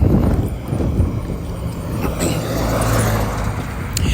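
Steady wind buffeting a microphone, a continuous low rumble with gusty rustle throughout, no voices.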